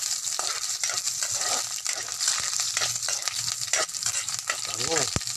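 Onions sizzle and fry in a hot pan while being stirred, for a coconut-milk sea shell dish; a steady, close crackle with occasional scraping of the spoon against the pan.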